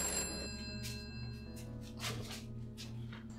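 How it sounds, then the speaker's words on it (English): A phone rings with a bright, repeating electronic bell tone that pulses in short bursts over a low hum, fairly quiet and with no talking. "My phone's ringing."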